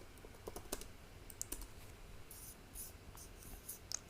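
Quiet, scattered keystrokes tap on a computer keyboard as a search is typed, short clicks in irregular bursts against a faint background hum.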